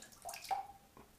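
A touch of water added to a Godrej shaving soap lather: faint, quiet drips and small splashes, a couple of brief wet plinks and a soft gurgle, close by.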